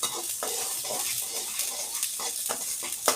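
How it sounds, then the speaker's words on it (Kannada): Mustard seeds crackle and pop as they dry-roast in a pan at home while making sambar powder, a steady close sizzle with irregular sharp spluttering bursts throughout. "ಚಟಪಟ ಚಟಪಟ ಅನ್ಬೇಕು ಸಾಸಿವೆ ಹಿಂಗೆ ಹುರಿಬೇಕು"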